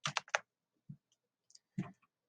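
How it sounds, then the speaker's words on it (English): Keys on a computer keyboard are pressed: a quick burst of three clicks, a lone tap, a pair of faint ticks and a final click, all close and sharp with silence between them. "you're going to want to hold down the Windows key on your keyboard and tap the letter P"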